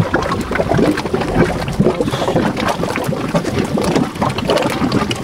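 Loud water on Sisi Island, a dense continuous rush and slosh of churning water up close, filling the whole stretch with no speech.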